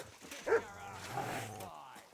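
A dog in the video game Kingdom Come: Deliverance II gives one sharp yelp followed by a drawn-out whimpering whine, close and fairly clear.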